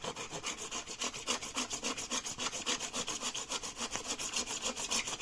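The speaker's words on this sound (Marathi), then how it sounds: "करवतमध्ये कापतोय" A hand saw cuts through plastic pipe in fast, steady back-and-forth strokes, close and rasping, with no talking.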